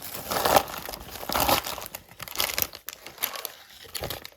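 A plastic bag crinkles and rustles in close bursts, with irregular crackling handling noises and brief pauses between them.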